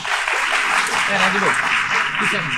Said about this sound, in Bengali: আমি তাদের জন্য একটা করতালি চাই যারা তোমাদের মধ্য থেকে কথা বলেছে